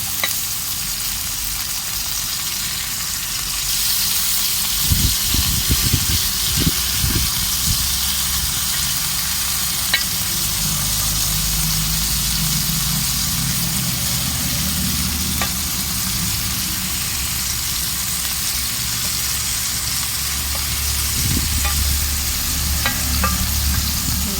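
Chicken kebab pieces frying in a pan give off a loud, continuous sizzle, joined by a few clattering stirs and turns early on and now and then later, with no one talking.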